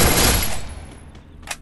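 Dense gunfire in the Free Fire mobile game, a loud burst of overlapping shots in the first half second that decays over the next second, followed by a couple of fainter, brief sharp reports near the end.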